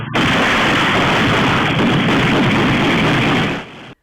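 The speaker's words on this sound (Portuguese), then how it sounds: "Foram vários minutos de troca de tiros em Miami Gardens, no sul da Flórida." Night gunfire exchange in a residential Miami Gardens neighborhood in South Florida: a dense, continuous roar of overlapping shots and bursts, loud and sustained for several seconds before cutting off abruptly.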